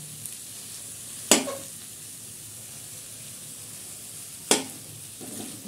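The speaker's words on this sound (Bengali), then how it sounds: "পিস করে এটাকে আমি এখন নেড়ে চেড়ে নিচ্ছি" Fish roe pieces stir-fried in a pan give a steady, quiet sizzle, with two sharp scraping clatters of a spatula against the pan and a few softer stirring noises in between.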